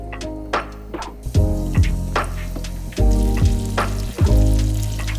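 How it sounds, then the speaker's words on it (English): Sliced lemon frying in olive oil in a large pot, a loud crackling sizzle with sharp pops and clatters as the slices are added and stirred. "Add the sliced lemon and cook."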